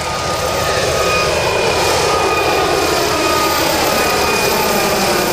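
An MD902 twin-engine helicopter with a ducted-fan tail flies at a rotor event, producing a loud, steady, broadband turbine roar and whoosh that holds unchanged throughout, with no voices.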